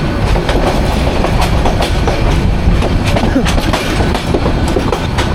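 The Bijoy Express train rolls into Kishoreganj railway station, a loud, continuous rumble with rhythmic clickety-clack of wheels over rail joints close by, filling the whole stretch.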